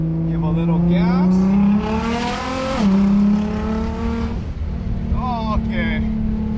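A widebody Nissan GT-R accelerates on a freshly paved road, its engine note climbing in pitch through the gears with a brief shift dip, then easing back to a steady cruise hum heard from inside the car.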